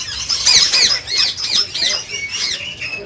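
A pair of Alexandrine parrots in an aviary setup gives loud, close, rapid repeated squawks and screeches, with varied pitch and no voices.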